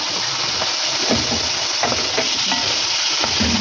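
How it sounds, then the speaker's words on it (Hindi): Whole dry chillies and beaten yogurt sizzle and fry in a pot while being stirred, a steady close hiss with intermittent scraping stir strokes throughout. "हम इसके साथ भुनाई करेंगे।"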